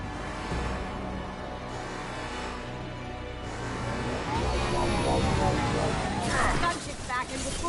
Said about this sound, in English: Gunship's back and with full shield.